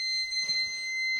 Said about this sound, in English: I thought that was a fire alarm